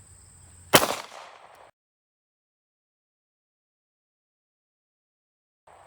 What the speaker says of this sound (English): this is going to be the 9x19 out of the Hungarian FEG high power